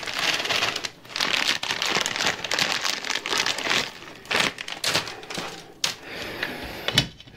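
Plastic zip ties ratchet tight in quick bursts of sharp clicking while fitting a Tannus airless bike tire, close and loud, with brief pauses between pulls.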